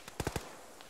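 A rifle fired in a ShackTac military video game, a quick cluster of three sharp, close reports followed by a faint distant crack.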